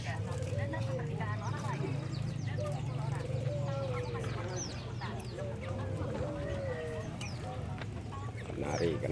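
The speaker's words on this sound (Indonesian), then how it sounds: "banyak burung, berbagai macam burung." Many birds chirp, whistle and call at once at the Sampang bird and pigeon market in Indonesia, a busy layered chorus with clucking fowl, under steady nearby talk and crowd bustle.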